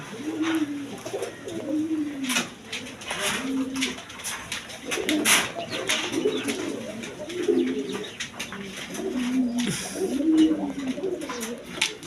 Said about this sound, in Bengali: প্রচুর কবুতর আছে